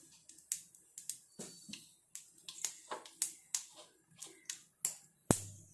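Mustard seeds spluttering in hot oil for a tapioca masala, a string of sharp irregular pops and crackles, close and fairly clear with no talk over them.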